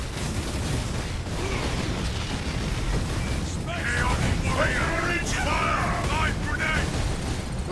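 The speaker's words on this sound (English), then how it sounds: "Although they're still trying the nade spam." Grenade explosions and gunfire from the Warhammer 40k: Space Marine video game, a dense, loud, continuous barrage of booms and impacts with game effects throughout.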